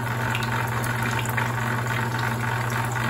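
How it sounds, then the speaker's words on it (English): Pump on a maple sap reverse osmosis unit building pressure, a steady low motor hum with constant hiss and running water through the lines, even and continuous throughout. "It's building pressure in the pump."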